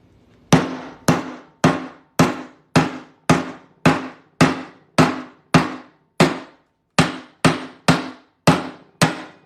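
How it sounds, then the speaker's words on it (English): Sharp metallic blows from a 2-pound hammer beating a coin through a large punch to make a ring, about fifteen loud ringing whacks at a steady pace with a brief pause partway through. "I take a 2-pound hammer and I'm going to beat it through here"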